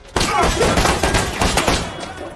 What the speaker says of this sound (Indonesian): Tanpa berpikir panjang, Paul pun menembak si pelaku